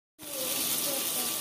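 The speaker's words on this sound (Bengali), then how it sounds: "এখন এই পাশটাকেও আমি লাল লাল করে ভেজে" Rohu fish pieces sizzle loudly in hot oil in a pan, the hiss starting abruptly and holding steady and close.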